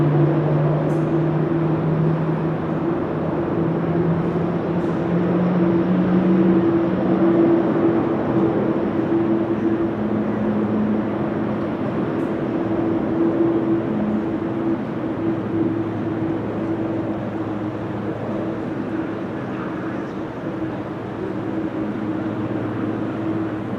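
A jet engine on a C-90 starts up on a windy, showery day at Amsterdam Schiphol Airport, a steady distant drone with sustained tones that shift and climb as it spools up.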